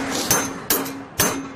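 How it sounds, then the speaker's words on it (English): Hammer striking an appliance part to loosen it, three sharp metallic blows at roughly half-second intervals, close and loud with no talk. "So I'm going to have to get a little bit of a hammer."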